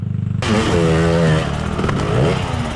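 A motorcycle revs hard on a difficult but passable trail, its engine close and loud, pitch climbing and dipping as the throttle works continuously throughout.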